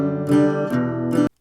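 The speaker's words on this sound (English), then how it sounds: "Take this pink first act guitar," A cheap pink First Act toy guitar is strummed close to the mic, giving three quick bright strums in a row that ring for a moment and then cut off abruptly.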